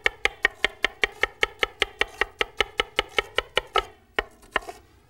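Knife chopping quickly on a cutting board while preparing Vietnamese-style food in a kitchen: about twenty sharp, evenly spaced chops in a steady rhythm, close and clear, then a brief pause and a couple of final cuts.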